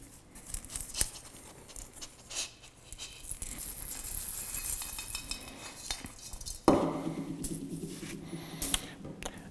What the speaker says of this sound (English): Roast coffee goes into its bag.